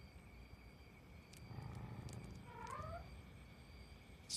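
A cat gives a faint, drawn-out meow partway through, quiet and somewhat distant over a low background hum.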